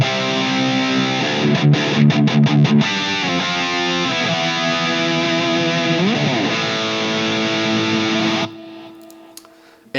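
An electric guitar played through a Mesa Boogie Rectifier Badlander 50-watt amp in crunch mode with the gain fully up and a light echo-reverb, ringing chords and choppy stabs sounding loud and alone, then cutting off near the end.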